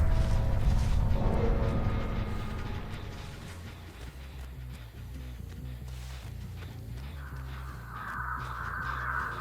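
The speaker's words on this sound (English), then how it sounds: "That was me setting off the crow bomb" A crow bomb goes off in the Dead by Daylight video game, releasing a burst of crow caws with flapping and mechanical clatter over a dense game soundtrack, cawing continuing through the clip.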